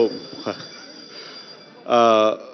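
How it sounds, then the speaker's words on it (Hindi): A short electronic bell rings once for about half a second after scattered voices and room noise in a televised debate studio. "घंटी बज गई"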